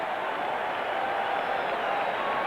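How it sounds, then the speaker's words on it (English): A stadium crowd at a 1986 Cincinnati Bengals at Green Bay Packers football game cheers in a steady, broad roar that holds from start to finish. "Crowd finally with something to cheer about"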